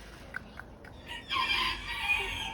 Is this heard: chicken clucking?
yes